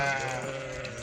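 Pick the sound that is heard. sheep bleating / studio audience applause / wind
sheep bleating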